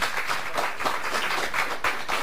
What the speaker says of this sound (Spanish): fuerte el aplauso ahora sí para el profesor Alfredo